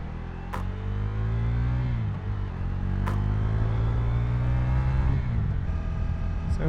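A motorcycle is ridden toward a car park. Its engine drones steadily and fairly close, with the pitch dropping briefly at a couple of gear changes, over a light wash of wind.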